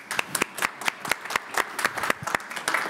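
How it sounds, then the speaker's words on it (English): Workshop participants clap in a small room, a sparse group with distinct, separate hand claps in an uneven rhythm, close and moderately loud, with no talking over it. "You deserve a round of applause."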